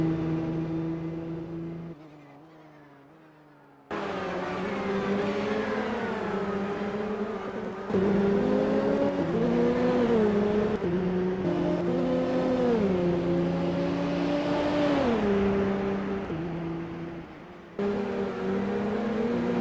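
Peugeot 908 race cars in a racing video game drone steadily with layered engine tones that rise and fall through gear changes, one car close and loud with others mixed in.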